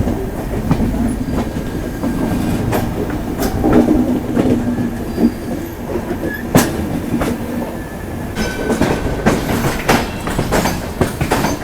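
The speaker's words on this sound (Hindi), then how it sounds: "बगल से डिपार्चर ले रही है पश्चिम एक्सप्रेस, मुंबई से अमृतसर जाने वाली" The Paschim Express, Mumbai to Amritsar, rumbles past at close range on a parallel track, with steady rolling noise, rhythmic wheel clicks and occasional sharp metallic clanks over several seconds.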